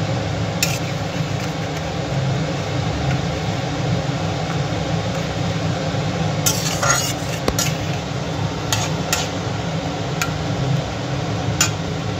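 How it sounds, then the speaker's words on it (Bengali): Tangra fish curry simmering to a boil in a pot, a steady low bubbling and hiss that runs throughout, with a few faint clinks of utensils over it. "এবার দেখুন ফুটে এসছে"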